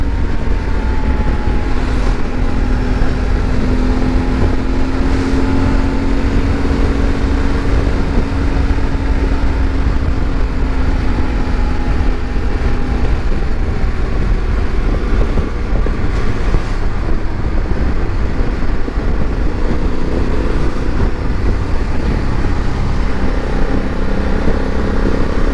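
A 2024 Honda Africa Twin Adventure Sports motorcycle on the road, a steady engine drone with shifting pitch mixed with heavy wind buffeting, loud and continuous throughout, no talk.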